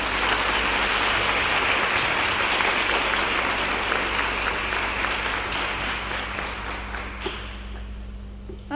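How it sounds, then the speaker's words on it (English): Schoolgirls at a grade 4–7 school prize giving applaud their teachers, a dense, sustained round of clapping from a large group that runs throughout and eases off slightly toward the end. "Girls, can you give your teachers a round of applause?"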